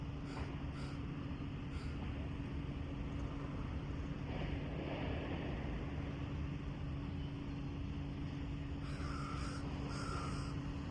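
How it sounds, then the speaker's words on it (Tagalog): Crows cawing a few times in the distance over a steady low rumble of wind and an engine drone. "Daghan kayong uwak dire oh"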